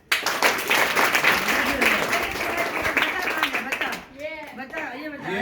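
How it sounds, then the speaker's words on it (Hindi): Audience at a school prize-giving clapping briskly for a first-prize winner, dense clapping that thins after a few seconds as a voice begins speaking over the tail. "तालियां बजाएं।"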